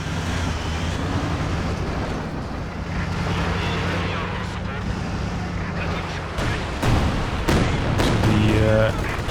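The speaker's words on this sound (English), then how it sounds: "IS-2 getting some nasty shots in there." Heavy cannon shots from an IS-2 tank in the Company of Heroes 2 real-time strategy game, booming in loud bursts near the end over a steady rumbling battlefield din, with commentary talk running throughout.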